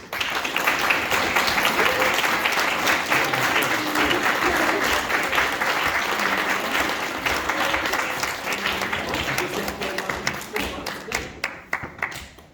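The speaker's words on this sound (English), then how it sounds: "Please can you give Zara, Lucy, Jessica, and Thomas and Darcy a big clap, please." A graduation audience claps steadily for a group of students, dense and loud applause that thins into scattered individual claps toward the end, with voices murmuring underneath.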